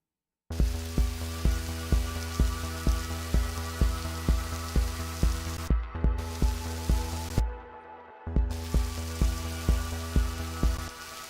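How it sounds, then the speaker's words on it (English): Synthesized rain from an ARP 2600 preset in Analog Lab: a steady, static hiss of patter with regular rhythmic pulses, briefly cutting out twice before resuming, with no voices. "that'll be our synthesized rain"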